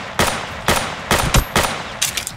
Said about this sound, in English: I got a gun and I'm not afraid to use it